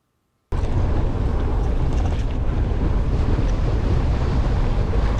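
Strong wind on a mountain bike trail, loud continuous rushing and buffeting against the microphone, starting abruptly after a brief silence and holding steady throughout with no talk.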